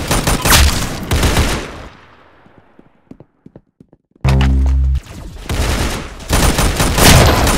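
Loud, close video game gunfire in rattling bursts, a stretch of sparse scattered shots, a short harsh buzzing tone, then more heavy firing.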